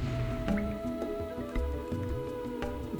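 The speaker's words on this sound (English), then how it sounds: "Which causes the water to drain, revealing a hidden hole." Water draining in the video game Star Fox Adventures, soft squishing and dripping splashes over a low game hum, quiet and uneven, with no voices.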